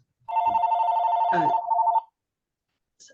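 A telephone bell rings loud and close in one sustained electronic burst of about two seconds, briefly overlapped by a low noise partway through, then silence.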